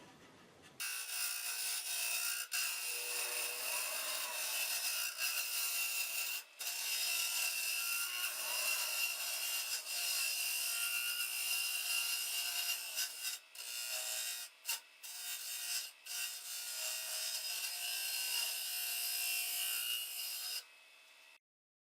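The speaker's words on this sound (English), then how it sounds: "now I do a bunch of finish sanding to get it smoothed out and leveled out." Continuous abrasive finish sanding against a segmented walnut vase, a loud, hissing rasp with a few brief pauses, running for about twenty seconds with no talking.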